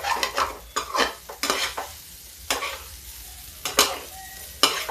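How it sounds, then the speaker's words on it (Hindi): Green mung sabji lightly frying in very little oil, a soft sizzle broken by repeated scraping and tossing strokes of a spatula against the pan, fairly close and without any talk. "अब इसको हम हल्का सा फ्राई कर लेते हैं। बहुत कम तेल है, इसको थोड़ा सा ऐसे उलट पलट देंगे"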